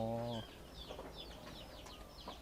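Chickens kept on a quail farm give a series of short, chirpy clucks at close range. A steady tone runs briefly at the start before the calls, which stay fairly faint and scattered over low background noise.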